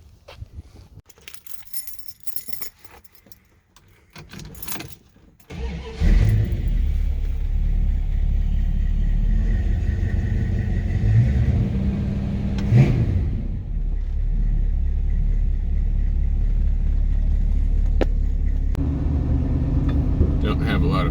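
Keys jangle before a 1974 Plymouth Barracuda's engine fires up, then its deep, loud rumble holds steady through a test drive, with occasional swells under a person talking.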